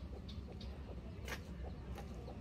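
Chickens in a backyard coop at a house in Vietnam give several short, faint clucks at scattered moments over a low, steady background rumble.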